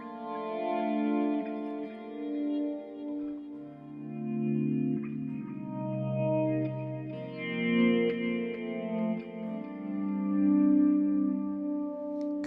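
Electric guitar run through effects and a volume pedal, producing swelling, sustained synth-like chord tones with chorus shimmer, played alone and fairly loud throughout.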